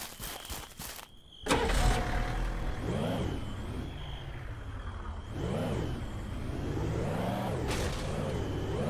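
A car engine in the Ranch Simulator video game idles steadily, then revs up and down in repeated swells. It keeps up a continuous, fairly close hum with no talking.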